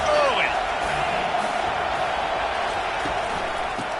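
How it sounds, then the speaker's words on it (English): Steady roar of a large stadium crowd at an American football game, loud and continuous throughout, with a few whistles and shouts rising out of the din. "This crowd bringing the energy and noise early."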